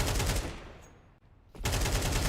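Bursts of M4 rifle fire in Counter-Strike, loud and rapid. A dense volley stops, there is a short lull, then the firing resumes just as intensely.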